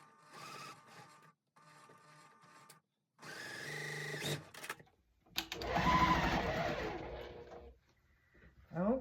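A sewing machine stitches fabric for a checkerboard basket quilt block in several short whirring runs, close and fairly quiet, separated by pauses, ending in a longer steadier burst of stitching.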